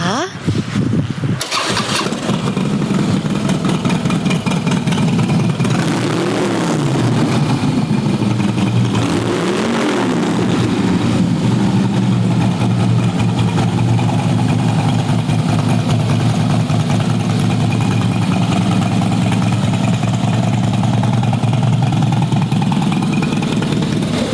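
A 2012 Harley-Davidson Fat Boy Lo's 103 cubic inch (1690cc) Twin Cam engine starts up and settles into a steady, loud, throbbing idle, with a couple of revs near the start.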